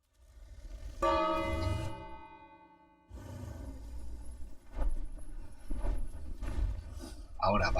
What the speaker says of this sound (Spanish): Y ahora tocamos la campana.